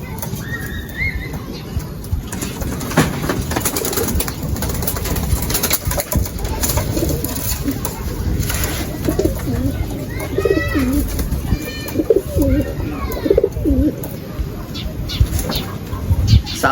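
Racing pigeons coo in a loft during summer, with soft repeated coos audible in the middle of the clip over a steady background of outdoor noise and some speech.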